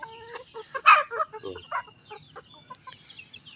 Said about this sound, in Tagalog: Yun ang mga manok.